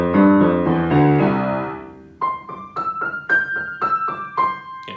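A piano played with both hands: full low chords ring out for about two seconds, then lighter, higher single notes follow in an uneven rhythm. The lower left-hand part sounds noticeably louder than the higher part.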